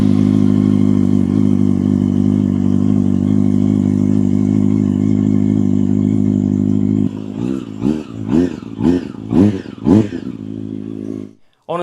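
A track motorcycle rebuilt from a wrecked bike idles loudly and steadily after a cold start, exhaust droning close up, then gives a series of sharp revving bursts before cutting off.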